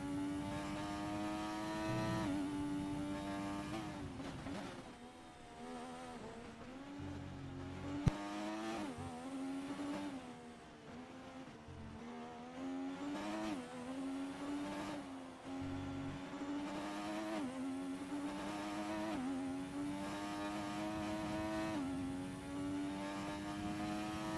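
A race car engine in a sim racing esports league game drives a lap, holding a loud, steady, high-pitched drone that climbs and drops through gear changes and corners, with no talk over it.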